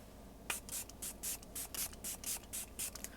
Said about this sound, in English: I'm going to take the Milani Make It Last Setting Spray